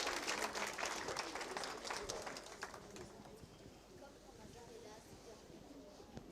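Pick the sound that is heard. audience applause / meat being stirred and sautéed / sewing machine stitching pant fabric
audience applause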